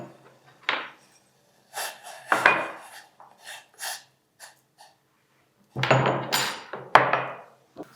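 Black peppercorns crushed coarsely for a kashayam, several separate gritty grinding and rasping strokes in short bursts with pauses, close and clear.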